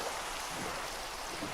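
Steady rain falling in the video game Minecraft, a dense, even hiss that holds without a break and without any talk.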